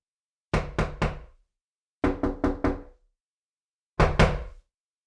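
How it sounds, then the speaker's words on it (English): Sharp wooden knocks in three quick bursts of three, four and two, counted out as a listening game, each rap crisp and close with silence between groups. "How many knocks did you hear?"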